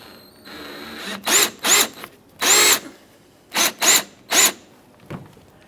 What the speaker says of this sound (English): just go ahead and drill out the center and remove the outer portion as well